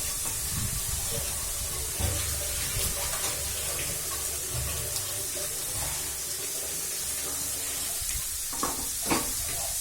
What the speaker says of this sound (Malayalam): നന്നായിട്ട് ഇളക്കണം